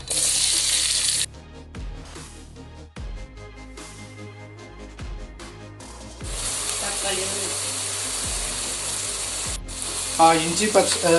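Sliced onions dropped into hot oil in a heated clay pot, a sharp sizzle at the start, then quieter frying with stirring and scraping, rising again into steady sizzling toward the end.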